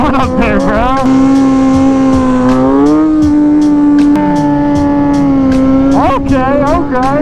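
An Aprilia motorcycle revs loudly and continuously while riding wheelies, its engine pitch rising and falling in sustained sweeps across the whole stretch, close and dominant.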